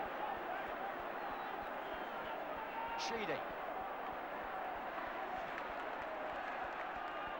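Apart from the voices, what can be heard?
football stadium crowd humming in debate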